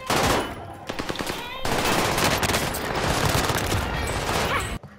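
Sustained automatic gunfire in a video game rattles in dense, rapid bursts, close and loud, with short gaps between strings of shots and no speech over it.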